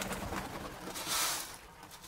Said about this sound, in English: this is where the beautiful Victorian crown pigeons stay at